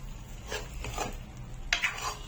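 A spoon stirs egg curry gravy in a pan, giving a few soft scraping strokes over a low sizzle, close and fairly quiet with no talking.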